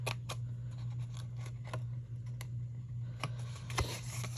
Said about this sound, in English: I kind of cut up on a diagonal too, just to get rid of a little sliver.